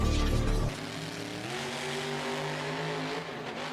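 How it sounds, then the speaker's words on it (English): A monster truck named Christine, driven by Mr. Grimm at a stadium show in Anaheim, revs its engine in a loud steady roar that drops sharply after a moment, then holds a sustained droning rumble. "coming up next, Mr. Grimm driving Christine."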